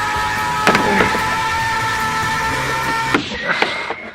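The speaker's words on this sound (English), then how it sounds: "Rip the shit out of these clips." Old plastic diffuser clips torn loose from the rear of an MK6 Golf GTI, a few sharp cracking snaps near the end over steady mechanical background noise.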